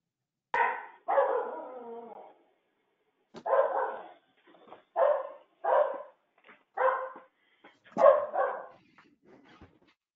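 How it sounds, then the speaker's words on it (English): A dog barking somewhere near a meeting microphone, a series of about eight loud, distinct barks in an irregular rhythm, some drawn out and whiny, with quiet pauses between. "Somebody's dog wants in on the action."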